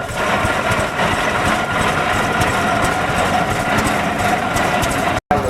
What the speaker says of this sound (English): Here's that tractor that doesn't sound good